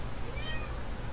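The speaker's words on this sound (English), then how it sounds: "never mind the cat" A cat meows indoors, a short, clear, fairly faint cry over a steady background hiss, with no talking.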